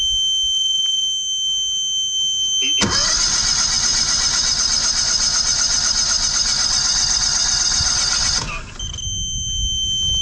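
An engine on a drain-clearing truck cranks in one loud, steady sustained burst of about six seconds, with a high electronic whine before and after, close and without speech.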